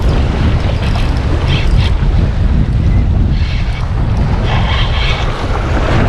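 Strong wind during a windstorm at a bridge while fishing for bass, a constant loud roaring rush buffeting the microphone throughout, steady with no pauses and no talking.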